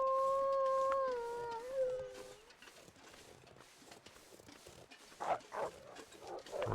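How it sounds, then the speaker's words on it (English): A single long howl from a dog in the foggy wilderness of the survival game The Long Dark fades out after about two seconds. Quiet scuffing and faint rustling follow. "It's a dog there."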